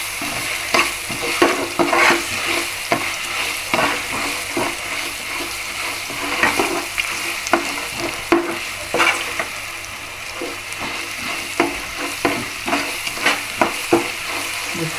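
Peanuts and garlic are sautéed in a pan for rice, sizzling steadily while a spoon stirs and scrapes against the metal in repeated close clacks, with no talking.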